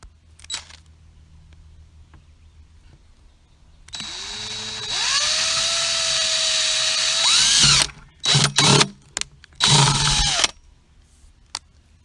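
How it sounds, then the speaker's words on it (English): A power drill bores an overflow hole through a plastic bucket, its whine rising sharply and running steadily for several seconds, then cutting in and out in short bursts as it breaks through; no talking. "Right here is where I'm going to drill my hole, about 4 3/4 of an inch up from the bottom."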